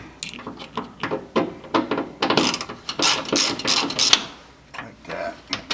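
A T30 Torx bit on a ratchet clicks as it backs out the bolts holding a Jeep mirror; rapid, uneven ratcheting clicks close by, with faint talk in the background.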